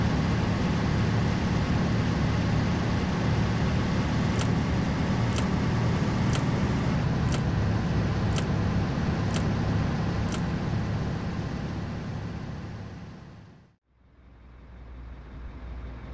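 A truck drives in Eighteen Wheels of Steel: American Long Haul with a steady, dense road-and-engine roar and a run of regular ticking clicks. The roar fades to near silence near the end, then briefly returns.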